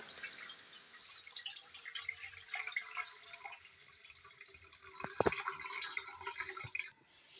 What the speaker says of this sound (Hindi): अब हम इसमें शामिल करेंगे दूध